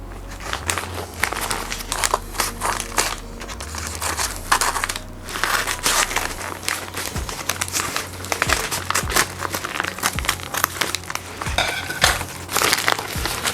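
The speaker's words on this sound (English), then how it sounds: "So let's open up the parcel and see how is it actually wrapped up" A bubble-wrap padded envelope holding a table tennis parcel is torn and handled up close, with continuous crinkling, crackling plastic and sharp crunchy pops coming in irregular bursts, no talking.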